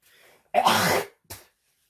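Phlegmy throat clearing by a man, one harsh, rasping burst followed by a shorter second hack, close and loud against near silence.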